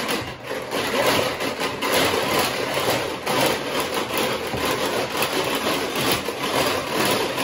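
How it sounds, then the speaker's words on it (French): An electric mixer runs continuously at close range, whipping eggs for a homemade Caesar sauce, with a steady whirring drone that holds throughout without any talk. "je vais mettre à tourner pour pouvoir mélanger, faire en sorte que mes œufs vont comme devenir un peu fouettés"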